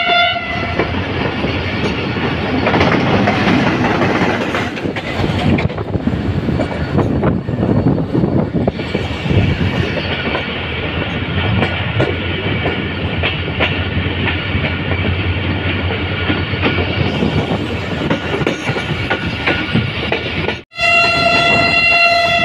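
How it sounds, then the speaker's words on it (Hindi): Railway locomotive GU409024 passing near Karachi Cantt, a loud, sustained rumble and roar of the train with rhythmic wheel clatter close by, cutting out abruptly near the end before a brief tonal burst. "चलें आपको भी उसका लोकोमोटिव साउंड सुनाते हैं।"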